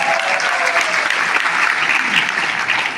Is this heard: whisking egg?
no